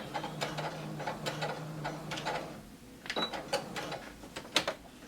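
A sewing machine back stitches and then stitches forward along a skirt seam, making short bursts of rapid mechanical whirring and clicking separated by brief pauses, close and moderately loud.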